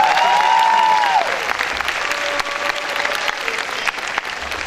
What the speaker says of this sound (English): Will you give yourselves a round of applause for your part?